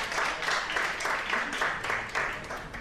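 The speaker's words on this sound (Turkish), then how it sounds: "Alkışlarınızla." Applause at a short film festival award ceremony: a crowd claps steadily and densely in a hall, the sound staying even and full throughout with slight swells.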